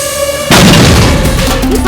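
A sudden loud boom bursts in after a quiet tonal background, then a rumbling, crackling decay continues.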